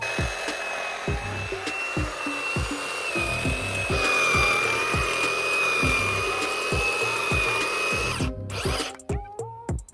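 A power saw with a 9-inch blade whines steadily as it cuts through wood framing, with a rapid rhythmic thumping throughout. It bogs down and sputters near the end.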